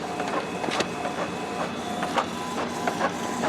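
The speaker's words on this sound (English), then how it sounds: "It's going to scan it and print it." Canon TS9520 inkjet printer scanning and printing a copy, close by, with steady mechanical whirring, rhythmic clicks and carriage shuttling throughout, no talk.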